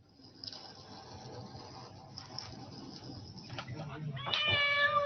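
A cat meows in a quiet room, faint at first and then a louder, clearer meow close by at the end, with no talk.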